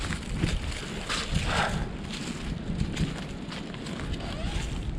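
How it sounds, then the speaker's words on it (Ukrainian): Steady broadband wind rushes and buffets across the whole stretch, a constant outdoor roar with gusty swells and no voices. "Вітер сьогодні, друзі."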